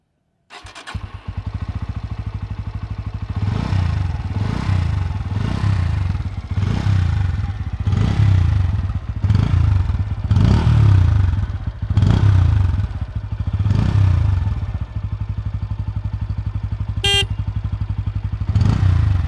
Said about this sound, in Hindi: दोस्तों अब कानों में हेडफोन पहन लीजिए।